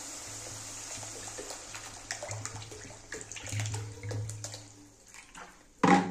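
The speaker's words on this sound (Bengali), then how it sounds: "এবার একটু আমি জল দিয়ে দেব। এবারে জল দিয়ে দিচ্ছি।" Water poured into a pan of spiced fish curry masala, a steady quiet running splash lasting several seconds before a short louder clatter at the end.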